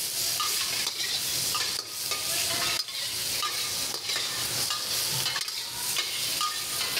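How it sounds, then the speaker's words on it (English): Food stir-fried in a hot wok with salt, a steady loud sizzle and frying hiss with repeated scraping and tossing strokes throughout, no voices. "So at this point, we're stir frying for another minute or two,"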